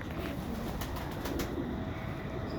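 Teddy pigeons coo softly in a few low, repeated calls against a steady hiss of background noise.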